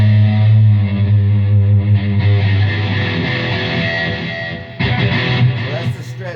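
An electric guitar on the treble pickup plays a dirty, distorted tone through reverb, delay and compression, with sustained chords ringing loud and alone before a fresh strum near the end.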